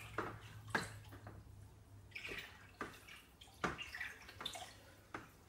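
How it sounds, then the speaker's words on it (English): Carbon gets stirred into a sugar wash in a fermenting bucket, soft sloshing and swishing strokes of liquid repeating irregularly at low volume, with no talk. "I'm just going to give that another stir as well, just to kind of get all the carbon mixed in"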